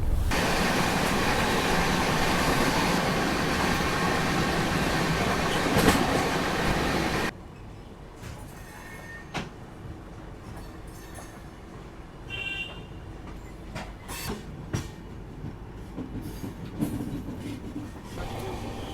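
An Indian train running on rails, heard from inside a first class carriage: loud steady rumble at first, then quieter rolling with repeated clicks and clacks of the wheels.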